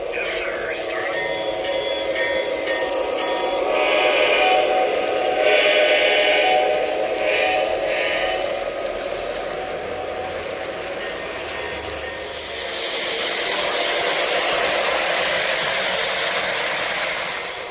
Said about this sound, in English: Great sound of diesel locomotive here.